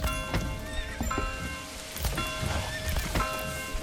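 Horses in the medieval village builder Manor Lords, with several whinnies and neighs rising over a bed of clip-clopping hooves and ambient outdoor sound, moderately close and without talk.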